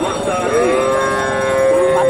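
A Holstein Friesian cow at the Hasokhali cattle market in Bogura gives one long, loud, close moo that rises and holds to the end over a busy market murmur.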